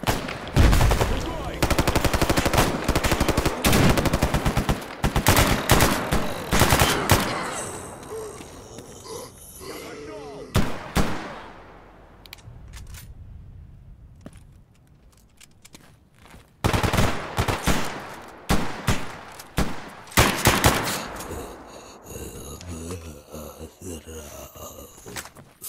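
Automatic rifle fire from a Galil in the S.T.A.L.K.E.R. Anomaly video game crackles in rapid bursts, loud and close, with a quiet stretch mid-way before more volleys, while a person talks and gasps over the action.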